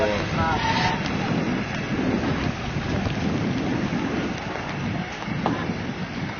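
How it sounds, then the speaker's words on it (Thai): Steady rain pours down with low rumbles of thunder rolling underneath, a dense continuous wash of sound throughout. "ตกพอดีครับตอนช่วงนี้ฝนตกพอดี"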